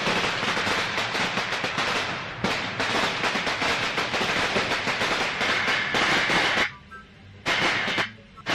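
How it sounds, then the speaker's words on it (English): Firecracker sound effect played from a prank phone app, a rapid crackling string of sharp pops that briefly breaks off and resumes, loud and close. "Or firecracker?"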